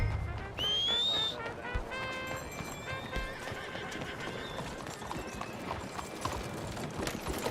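Horse hooves clip-clopping in the video game Red Dead Redemption 2, a steady close trot under a loud whinny at the start and a whistle, with ambient game sounds and faint voices behind.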